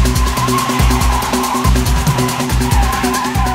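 A car skids under harsh braking on tyres fitted with Tyrelok run-flat tyre bands after a blowout, rubber and rim pressed against the road, giving a loud continuous scraping rumble with steady rhythmic thumps throughout.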